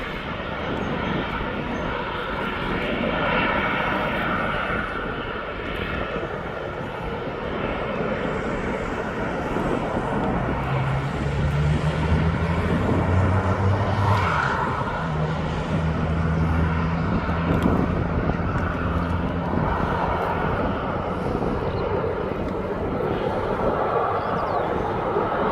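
Aircraft departing East Midlands Airport for Dublin: a sustained, broad jet engine roar heard outdoors from a distance, steady throughout with a swelling in the middle as thrust builds.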